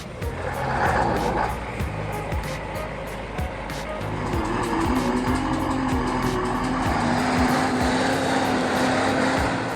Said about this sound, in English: A truck hauling 2 full log bays charges at high speed to conquer a slippery, muddy slope